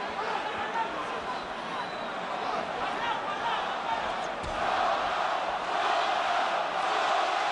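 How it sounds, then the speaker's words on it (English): A Puerto Rican crowd at a Miguel Cotto versus Zab Judah boxing match chants for the fighter, a steady roar of many voices that grows slightly louder toward the end, under a commentator's talk. "Puerto Rican crowd begins to chant for the man"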